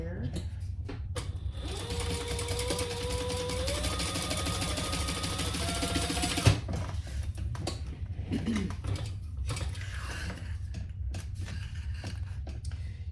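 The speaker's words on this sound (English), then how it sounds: "I'm just going to do a tiny bit of chain stitching here." A sewing machine runs a chain stitch with a steady, fast mechanical whir for about six seconds, then stops with a clunk. A voice talks afterward.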